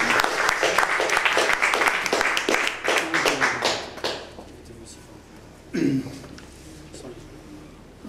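Audience applause for a poet at an open-mic poetry stage, a burst of dense clapping that thins and fades out over several seconds, with scattered late claps and faint murmurs afterward.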